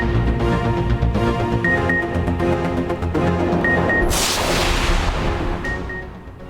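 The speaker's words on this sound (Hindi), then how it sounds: "आतिशबाजी का भी शानदार मुजाहिरा।" Fireworks display at a concert celebration, a run of loud booms and crackling bursts layered over music, with a sharp broad blast near the middle.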